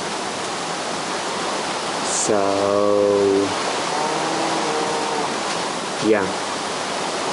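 Steady rushing of flowing water in Minecraft plays throughout at a constant level, with a brief tonal game sound and a short click over it and a few spoken words.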